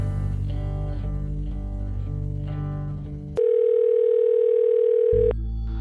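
A telephone call connects late at night. A pulsing electronic ringing tone repeats in short bursts, then a single loud, steady beep holds for about two seconds before the line changes.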